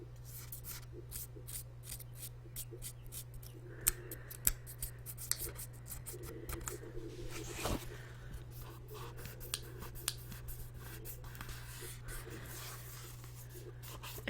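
Paper lifting off a scrapbook insert rubbed by hand in close, soft dry scratches and rustles, with a few sharper crinkles, against a steady low hum.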